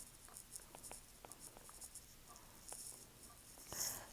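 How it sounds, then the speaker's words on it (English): A pen scratches short strokes across paper, underlining words in a math worksheet, quiet and close with a few brief scribbles and taps. "Let's go ahead and underline that word."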